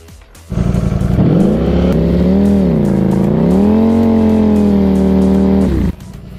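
A motorcycle with traction control switched off spins its rear wheel at low speed, the engine holding a loud, steady droning roar that rises slightly in pitch midway, then cuts off abruptly near the end.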